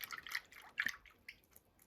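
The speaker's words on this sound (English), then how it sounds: "Then I usually like to give my water a little swish just to activate the soap." Soapy water swished around in a bowl while socks are washed for blocking, heard as a few soft, close liquid sloshes and drips with quiet gaps between them.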